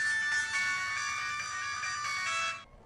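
A phone rings with a steady electronic melody for a couple of seconds and then cuts off, loud and close, with no talking over it.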